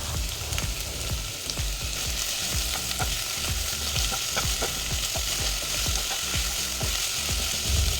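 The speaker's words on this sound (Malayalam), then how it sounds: "1 ടേബിൾ സ്പൂൺ ഇഞ്ചി വെളുത്തുള്ളി പേസ്റ്റും കൂടി ചേർത്ത് നന്നായിട്ടൊന്ന് വഴറ്റിയെടുക്കാം" Onion, green chilli and ginger-garlic paste sizzle steadily in a hot pan, with frequent scraping stir strokes over a continuous frying hiss, close and fairly loud, no voices.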